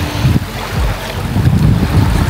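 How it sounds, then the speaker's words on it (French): Outdoors on a windy day near cold water, wind buffets the microphone. The roar is loud and continuous and rises and falls in gusts, with no one speaking. "En même temps, il y a du vent aujourd'hui"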